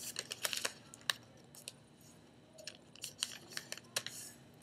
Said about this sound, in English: Folding this in like this.